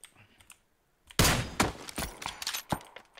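Gunfire in the video game PUBG during a competitive league match pops in a rapid, uneven burst of sharp shots after a brief quiet stretch, fairly close and loud with no talk over it.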